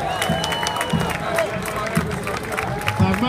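A parade crowd at the Boston Greek Independence Day parade claps and cheers for a Greek Orthodox church group passing by, a dense outdoor wash of applause and shouts mixed with crowd chatter and an announcer's voice over it.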